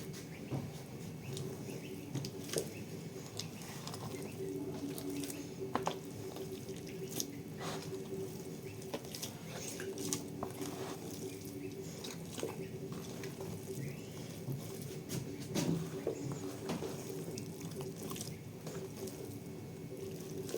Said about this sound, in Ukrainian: Вимісимо тістечко наше, щоб було гарне, ніжне.